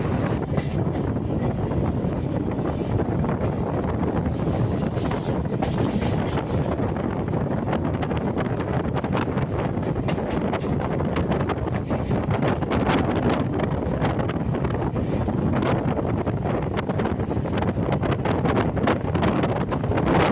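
Continuous loud rumble and rushing noise of a local EMU electric train between Ennore and Tiruvallur near Chennai, heard from on board, with buffeting wind over the microphone and no speech.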